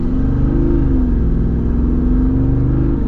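A 2026 Jeep Gladiator's V8 Hemi engine revs loud and close, a deep rumbling rise and fall with a sustained throaty tone and no talk.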